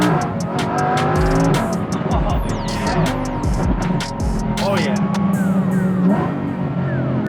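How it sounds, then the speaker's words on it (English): A 2021 Lamborghini Huracan V10 fitted with an FI exhaust roars through repeated hard revs and passes, engine pitch sweeping up and down, with tire squeal and loud, close bursts, under some talk. "I really got to enjoy the sound of the car"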